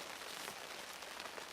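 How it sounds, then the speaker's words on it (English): Rain falls outdoors at an Alaskan caribou hunting camp, a steady soft patter of drops on surfaces, faint and even with no voices. "Rain is not helping things any."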